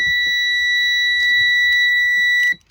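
A steady, piercing electronic buzzer tone from an épée fencing body cord tester sounds continuously for a couple of seconds as the cord is flexed, faint clicks and handling noise beneath it, then cuts off abruptly.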